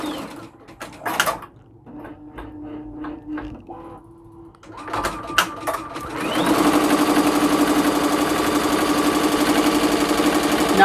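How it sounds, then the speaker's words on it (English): A Juki Tajima Sai 8-needle embroidery machine sews, first with short bursts and pauses as it jumps and changes position, then settling into a steady, loud, fast mechanical stitching hum close by. "It's almost finished stitching with the word kitchen, and then it'll jump down and change colors."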